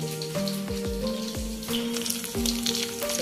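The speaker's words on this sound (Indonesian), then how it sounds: "Sebelum itu ikan kena goreng lah" Fish frying crisp in hot oil gives a steady loud sizzle and crackle up close, with some tonal clanks and knocks from the pan throughout.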